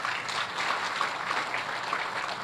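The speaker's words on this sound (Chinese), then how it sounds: "给他们一个掌声哦" Audience applause at a lecture hall exchange session, a steady, fairly soft wash of clapping from many hands lasting the whole moment.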